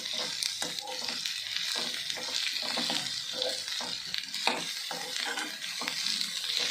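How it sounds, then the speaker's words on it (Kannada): Bitter gourd fries in hot oil with coriander and curry leaves, giving a steady close sizzle broken by repeated spoon stirring and scraping in the pan, with no talking. "ಇವು ಎಲ್ಲನೂ ಕೂಡ ಹಾಗಲಕಾಯಿ ಜೊತೆನೇ ಫ್ರೈ ಆಗ್ತಾವೆ."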